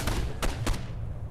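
Gunfire from the video game Condemned 2: Bloodshot arrives as three quick heavy shots in about a second. A rumbling low tail follows, with no voices over it.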